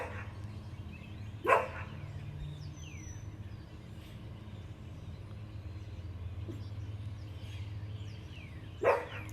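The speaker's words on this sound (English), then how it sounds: "Did y'all hear my puppy barking?" A pet puppy barking indoors: two separate loud single barks, far apart, over a steady background hum, with faint chirps in the gaps and no talk.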